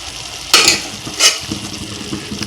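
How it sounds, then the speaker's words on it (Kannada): Cooked moong beans tipped into a pan of frying dill leaves, with two sharp bursts of sizzling and stirring over a steady, quieter fry. "ಇವಾಗ ಹೆಸರು ಕಾಳನ್ನ ಹಾಕ್ತದನ್ನು ನಾನು"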